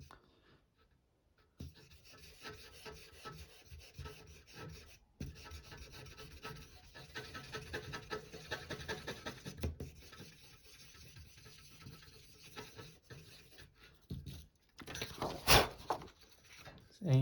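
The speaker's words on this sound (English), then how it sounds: "So you can see that the eraser is also a drawing tool." Eraser rubbing across a pencil sketch of a lighthouse, a steady scratchy scrubbing that runs in bursts close to the paper, with a few sharper strokes near the end.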